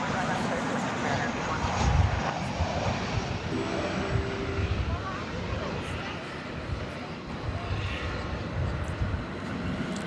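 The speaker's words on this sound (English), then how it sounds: "Here comes American Flight 9 from Albuquerque." An American Airlines Boeing 737-800 arriving from Albuquerque rumbles at moderate distance, a steady low engine drone with brief thumps, partly under someone talking and some background chatter.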